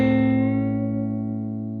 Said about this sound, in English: If I bend this up to the major third, it sounds like this.